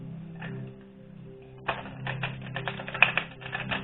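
A deck of tarot cards is shuffled close by, with soft rustling that breaks into a rapid run of sharp clicking card snaps, steady and fairly loud with no voices over it.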